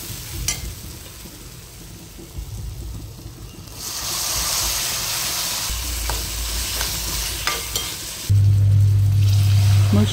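Mushroom curry masala with coarse peanut powder, garam masala and black masala cooks in oil with a splash of water, giving a steady soft sizzle and stirring that swells louder in the later half.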